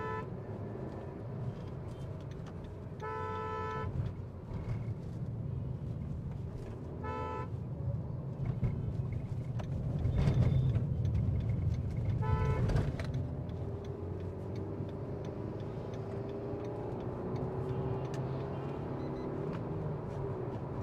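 A car cruising at speed with steady road and engine rumble, with several short horn toots sounding nearby and a brief surge in engine noise midway as gears shift.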